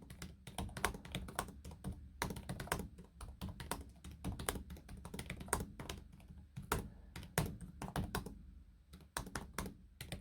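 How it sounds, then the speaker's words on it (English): Rapid, irregular tapping of a Dell XPS laptop keyboard, close and clear, with soft keystrokes in quick runs and brief pauses, no voices. "the keyboard's absolutely fantastic. Great typing experience."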